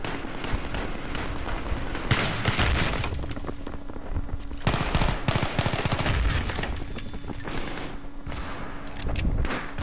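In Battlefield 3, a Saiga 12K shotgun firing frag rounds bursts out in repeated loud blasts and explosive booms over a constant backdrop of battle noise and other gunfire.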